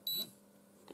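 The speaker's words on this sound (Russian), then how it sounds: "Прозвучал сигнал звуковой и была вибрация." A GP-Pointer GP360 pinpointer metal detector gives a single short, high electronic startup beep when switched on, then settles into a quiet background hum.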